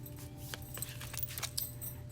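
Tarot card decks being shuffled make soft, quiet, intermittent riffling and clicking taps, with no talking.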